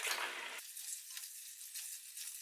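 Potatoes and diced scalded tomatoes sauté in a hot pan, a loud burst of sizzling at first that quickly settles into a steady, quieter crackle with occasional spits.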